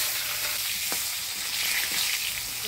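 Flat beans and eggplant hit hot oil tempered with black cumin in a pan, giving a loud, steady hiss of frying with a few soft stirring knocks.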